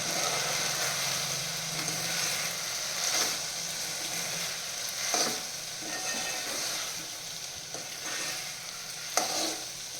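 Okra for bhindi masala fries with coriander-cumin powder and turmeric, giving a close, steady sizzling hiss with soft scraping strokes of a spoon stirring through the pan.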